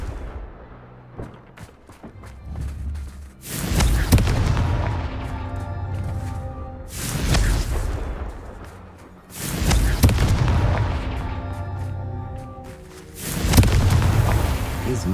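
Repeated Confringo blasting spells explode in the Hogwarts Legacy video game: four loud booming blasts, each with a crackling decay, spaced a few seconds apart, and a voice casts the spell.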